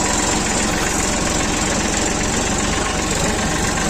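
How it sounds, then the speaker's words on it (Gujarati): A tractor engine chugs steadily as it is driven across a farm, a loud, close, continuous rumble with a rapid pulsing beat and rattling vibration and no voices. "ટ્રેક્ટર હાંકે છે અત્યારે"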